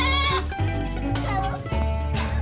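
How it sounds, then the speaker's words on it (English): Goats shown by kids at a county fair bleat amid a dense, noisy barn, with other voices and background din layered over the animal calls throughout. "the kids show some county fair goats"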